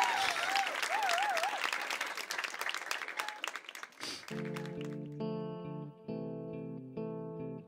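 Audience applause for an Argentine artist fills the first four seconds as a dense, loud patter with a thin whistling tone over it, then gives way to clean, steady electronic music notes.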